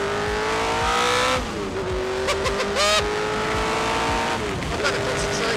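Tyrrell P34 six-wheeled Formula 1 car racing on track, its engine a loud sustained high-pitched whine that dips and rises with gear changes and brief tire squeal, with a voice talking over it throughout.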